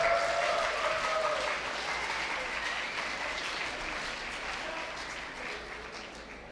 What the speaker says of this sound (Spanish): Ese aplauso para recibirlo